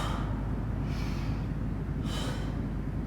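Two breaths drawn in during a triceps exercise, each a soft airy inhale, close and clear over a steady low rumble of room noise.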